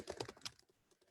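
Quick clattering keystrokes on a computer keyboard, a short burst of taps close up followed by a few softer clicks.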